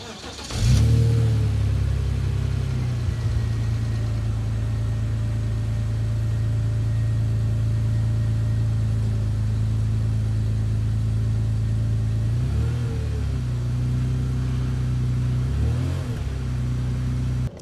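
A BMW X5 E53 engine idles steadily after a cold start, with one brief rise in revs at the beginning and two small blips near the end. The low, even hum is close and continuous, with no talking.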